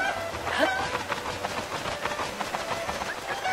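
A chicken in Zelda: Breath of the Wild gives soft, scattered clucks over steady rain-like ambient noise, fairly quiet, with no speech.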